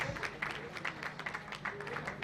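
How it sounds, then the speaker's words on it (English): Audience applause for the chairman at an anniversary event and public lecture in an event centre in Benin City: a short, dense burst of clapping at moderate level, with some voices mixed into the crowd noise. "Please, a round of applause for him, please."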